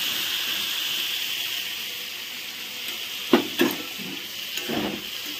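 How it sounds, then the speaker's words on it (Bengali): Cauliflower and potato frying in a pan for an offering meal, a steady sizzling hiss with a few louder scraping bumps as the pieces are stirred near the end. "ফুলকপিটা এদিকে নেড়ে দিই। আলুও দিয়ে দিয়েছি একসাথে।"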